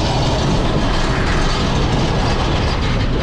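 A train rattles and shakes loudly on a steep downhill stretch, a continuous dense clatter of cars and wheels rolling close by with no pauses, heard from on board.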